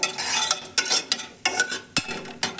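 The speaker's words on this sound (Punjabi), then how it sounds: "ਇਹਦੇ ਵਿੱਚ ਪਾਵਾਂਗੇ ਆਪਾਂ 4-5 ਬਦਾਮ ਇਹਨਾਂ ਨੂੰ ਆਪਾਂ ਥੋੜੇ ਜਿਹਾ ਭੁੰਨ ਲਵਾਂਗੇ" A handful of almonds roast in melted desi ghee in a pan, giving a close, crackling sizzle broken by repeated scraping strokes and light clinks of a spoon at a steady stirring rhythm.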